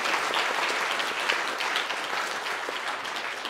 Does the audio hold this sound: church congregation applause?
yes